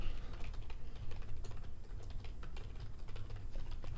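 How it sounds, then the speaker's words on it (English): Rapid computer keyboard typing, steady irregular clicks of keys continuing throughout, fairly close, with a low background hum and no talking. "If you do hear typing, that's just me making alerts in the private community that I offer."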